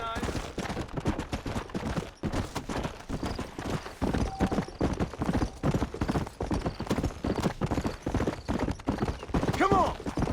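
Rapid, dense clip-clop of many horses galloping in the video game Red Dead Redemption, loud and close, with scattered gunfire, a brief whinny near the end and voices shouting over it.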